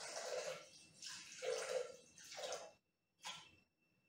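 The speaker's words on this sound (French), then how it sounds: "400 g d'eau dans le bol" Water poured into a Thermomix bowl in several splashing bursts with short pauses between, ending in a brief final pour, quiet and close.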